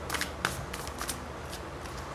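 Tarot cards shuffled and drawn during a reading: quick, close riffling flicks and snaps of card stock in short clusters over a low room murmur, fairly quiet.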